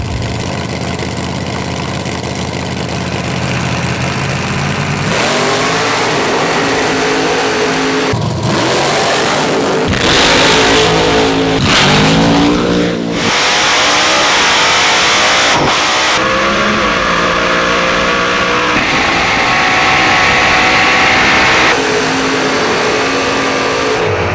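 Nostalgia AA gasser drag cars roar down a drag strip at full throttle, loud and close, with sustained engine howl, rapid gear-change breaks and repeated revving bursts over about twenty-four seconds.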